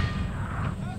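Distant cannon fire from a mortar and artillery battery in the PC strategy game Empire: Total War, Maratha campaign, a low rumbling boom over about a second of continuous battlefield noise.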